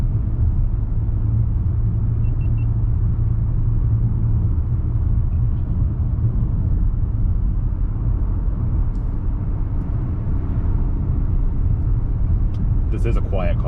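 Steady low road rumble and engine drone inside a 2020 Nissan Maxima sedan while driving by day, even and continuous throughout with faint clicks near the end.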